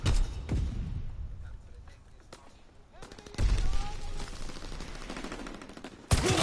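Gunfire in the World War II shooter Call of Duty WW2, with dense bursts of rifle and machine-gun fire and a few sharp single shots, loud and continuous under a voice calling out during the firefight.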